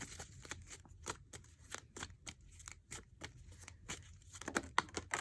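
Oracle cards being shuffled by hand, a close run of crisp riffling snaps and soft slides in an irregular rhythm, fairly quiet with no talking.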